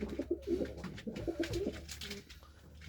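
Pigeons at a nest with an injured bird give soft, repeated cooing calls close by, a low murmuring series of coos with short gaps and no talking.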